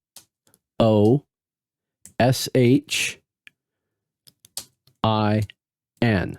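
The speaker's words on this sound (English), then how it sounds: "So if I was to type the word doshin," Keys click sharply on a computer keyboard as a word is typed out letter by letter. The sparse, single taps fall between short bursts of someone talking.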